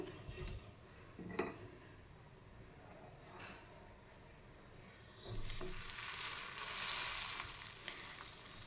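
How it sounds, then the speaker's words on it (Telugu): Vegetable sandwiches placed on a hot oiled pan to toast, a faint crackle with a few utensil clinks that swells into a louder sizzle partway through, with no talking. "ప్యాన్ అయితే వేడెక్కింది ఇప్పుడు మనం వీటిని కాల్చుకుందాము"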